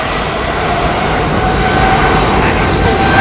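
A GE90-powered jet airliner roars at full takeoff power on the runway, a loud, broad, continuous engine blast that swells slightly over the few seconds, close and overwhelming.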